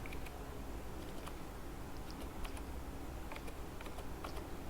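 Typing a command on a computer keyboard, a faint, steady run of light key clicks at close range, with no voices.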